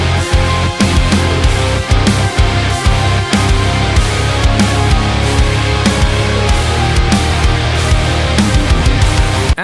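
Full band arrangement, driving distorted guitars with violin and piano and steady drums, no vocals, loud and dense throughout.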